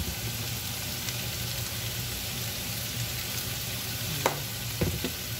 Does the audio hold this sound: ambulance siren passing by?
no